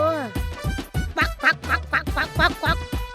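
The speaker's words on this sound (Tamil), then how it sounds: "வாத்து பொம்மை" A toy duck gives a quick run of about nine loud, nasal quacks, close and evenly paced, alone with no talking.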